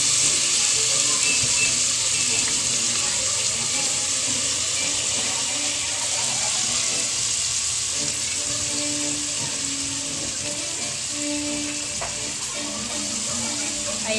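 A steady bubbling, hissing roar of a pot boiling fills the clip, continuous and close, with faint kitchen clatter underneath.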